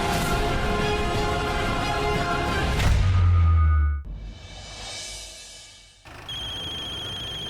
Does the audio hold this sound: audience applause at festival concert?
no